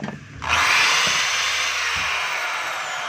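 A DeWalt DWD022 3/8-inch hammer drill with a damaged chuck and a cut cord protector starts up after a brief quiet moment. It then runs as a loud, steady, close-up whir with no voices.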